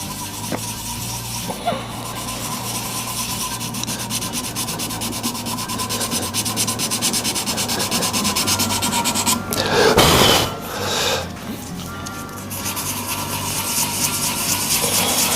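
Sandpaper working through successive grits on a spinning resin shaving brush handle on a lathe gives a continuous close, loud abrasive hiss under the steady drone of the lathe motor, briefly swelling into a harsher scrape midway.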